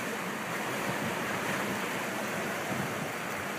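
Ocean waves washing over rocks along a shore, a steady broadband roar of surf and water running continuously throughout with no voices.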